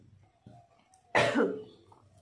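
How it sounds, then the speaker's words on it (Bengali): A sudden, loud burst of coughing close by, with a couple of harsh spasms, triggered by acrid fumes from burning dried chillies in a home kitchen, preceded by a soft throat sound. "শুকনো লঙ্কা পুড়িয়েছি তো সেই মানে ইয়ে ঝাঁচটা আসছে কাশি হচ্ছে ভীষণ লাগছে"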